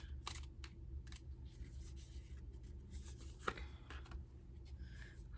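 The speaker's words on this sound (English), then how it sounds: "I'm going to pick a couple of cards from Everyday Tarot." Tarot cards from an Everyday Tarot deck are drawn and shuffled, giving soft papery slides and light taps in short separate bursts, quiet and close.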